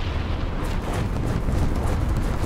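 Heavy artillery explosion in War Thunder, a sustained deep rumbling boom that rolls on loudly for a couple of seconds with no voices.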